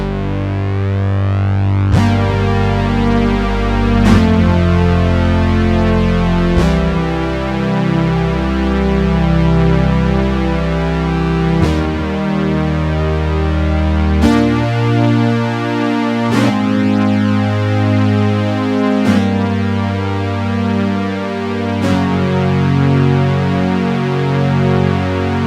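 Roland Juno DS88 synthesizer on the 016 Juno Lead patch, a thick, sustained, distorted lead line with several held notes and gliding changes, loud and continuous with no talking.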